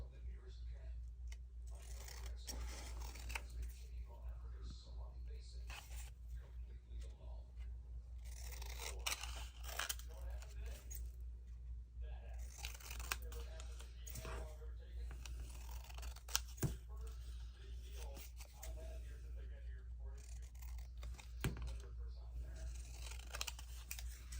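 Scissors trim the corners of paper belly bands for a Christmas journal, giving a run of close, crisp snips and scrapes against a steady low hum, with a quiet voice speaking softly at times.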